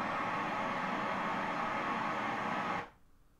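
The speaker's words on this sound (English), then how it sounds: "once you have the pink noise level from REW hitting 75 decibels, you're ready to start taking your measurements" Pink noise test signal played from REW room measurement software, a steady loud broadband hiss holding evenly for nearly three seconds before cutting off abruptly into near silence.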